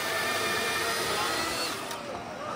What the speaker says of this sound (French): T'as une mini tronçonneuse quoi